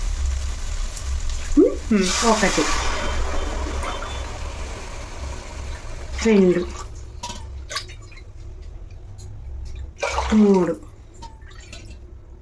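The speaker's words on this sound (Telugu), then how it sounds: "దీంతో 4 గిన్నెలు వాటర్ వేస్తాను" Mint water poured from a rinsed mixer jar into a cooking pot for mint paneer pulao, three separate pours a few seconds apart, each a short splashing burst, with a voice counting between them.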